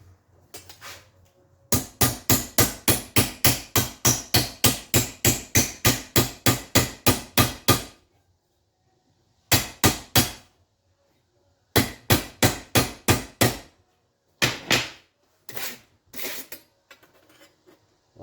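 Steel flat bar is bent and hammered around a pallet-wood hope chest: a long run of rapid, evenly spaced metallic blows, then several shorter bursts of strikes separated by silence.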